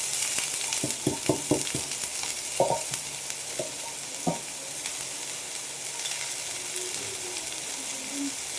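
Cluster beans stir-frying with onions in a pan, a steady soft sizzle with sharp clacks of a spatula scraping and stirring, several quick strokes near the start, then sparser taps over the continuing hiss.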